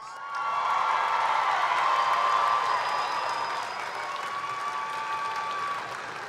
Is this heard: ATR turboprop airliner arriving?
no